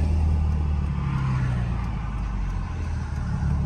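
A Mercedes W210 sedan, recently fitted with a new transmission conductor plate, is driven in first gear only, giving a steady, loud low engine drone with road rumble close inside the cabin and no speech.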